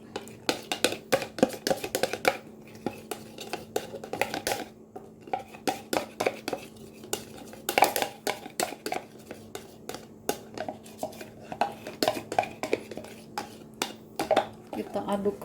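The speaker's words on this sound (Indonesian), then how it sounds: "Kita aduk kembali" Milo steamed brownie batter with melted milk being stirred in a bowl, giving steady close scraping and clinking taps of a utensil against the bowl throughout.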